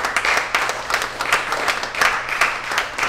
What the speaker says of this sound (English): please would you give your maximum amount of applause